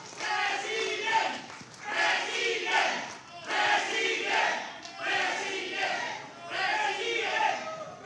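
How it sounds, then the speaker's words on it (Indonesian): A crowd at a NasDem party event backing a 2024 Indonesian presidential candidate cheers and claps in rolling, swelling waves of shouting and applause, loud and sustained across several surges. "Boleh berikan tepuk tangan yang meriah buat kita semua."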